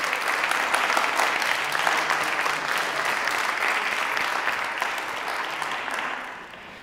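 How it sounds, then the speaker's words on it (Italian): Audience applause fills a school concert hall, a dense, steady wash of many hands clapping that holds evenly before tapering off at the end. "quindi magari possiamo fare un applauso"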